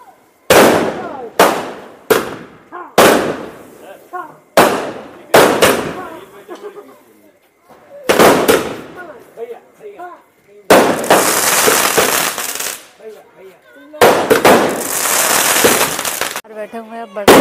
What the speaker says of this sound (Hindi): पटाखों की बरसात हो रही है